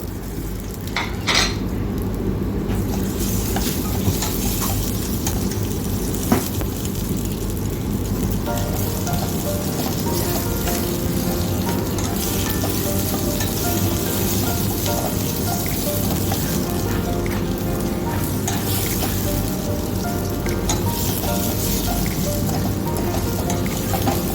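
Green chillies sizzle in hot oil in a pan while cooking butter chicken, a steady, dense frying hiss that runs throughout with occasional faint utensil clinks and no talking.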